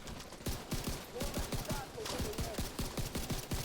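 Quick, sharp pistol shots in The Division 2's Dark Zone, a fast steady string of about twenty cracks at moderate level, firing almost continuously with brief pauses.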